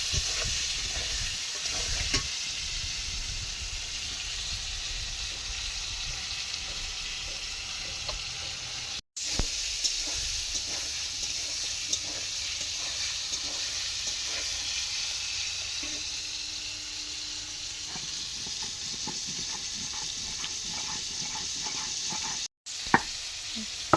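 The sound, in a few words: pointed gourd (potol) frying in a pan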